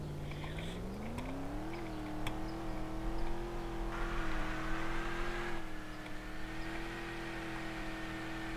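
A car engine in the Ultimate Driving game on the Delancy Gorge map, a steady, fairly quiet drone that climbs in pitch as it revs, then holds a smooth, whirring cruise, with no talk.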